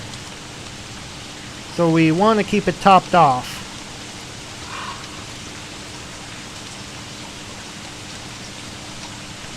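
Rain falls steadily in the video game Don't Starve as a soft, even hiss. A person speaks briefly over it.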